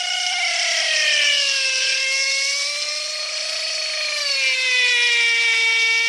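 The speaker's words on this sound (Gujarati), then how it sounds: "શેનો અવાજ છે? Drilling machine." An electric drilling machine runs steadily with a high whining tone that sways slightly in pitch. It is close and loud for about six seconds, with no talking.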